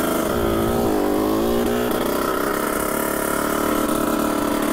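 A Honda CR 125 two-stroke motorcycle idles nearby after sitting unused, its engine a steady, loud, buzzy drone with slight wavering in pitch, running alone without voices.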